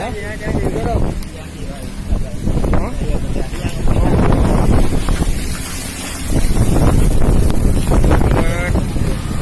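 Strong gusty wind buffets the microphone in Aceh during a gale, a loud continuous roar with surging gusts and some rumble, with no clear voices.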